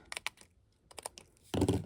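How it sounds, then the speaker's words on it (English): Scissors trim card paper for a handmade pop-up card. Several quick, close, dry snips sound at a light desk level, followed by a brief rustle of paper. "take my scissors, give that a good trim"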